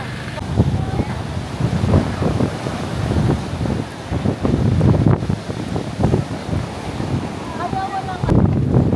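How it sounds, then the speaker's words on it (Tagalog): Strong wind on Boracay roars and buffets the microphone continuously, with gusty bursts and a low rumble of surf nearby. "Sobrang lakas ng hangin."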